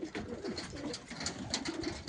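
Pigeons coo continuously close by, with overlapping soft, throaty calls repeating in a steady rhythm and no talking.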